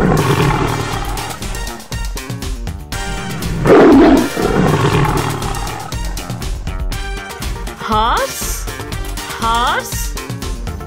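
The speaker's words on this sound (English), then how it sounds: "Tiger." A recorded tiger roar played for a zoo animal toy, loud and harsh with growling rises and falls, layered over music and other animal noises.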